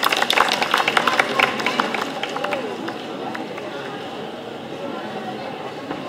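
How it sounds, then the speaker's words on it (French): An audience at a cat show applauds a three-month-old Ragdoll on the podium. Loud clapping and crowd noise start the clip and fade to a lighter patter, with a voice talking through it. "On l'applaudit très fort"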